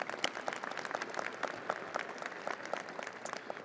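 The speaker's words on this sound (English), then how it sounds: "I think I saw applause coming there quickly" A commencement audience breaks into applause, a dense, lively burst of many people clapping with a few sharper claps rising out of the steady crowd sound.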